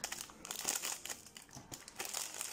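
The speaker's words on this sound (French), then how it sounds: "Le papier n'est pas tout à fait le même, il fait un bruit pas très agréable." Paper crinkles and crumples in short, uneven bursts, close and fairly quiet, with no talking over it.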